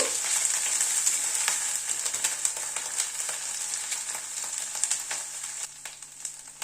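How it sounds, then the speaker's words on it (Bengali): Spices with ginger paste and ground green chili sizzle and fry in a pan, a steady close hiss with light stirring scrapes throughout, no voices. "সব মশলাগুলোকে একসাথে একটু কষিয়ে নেব।"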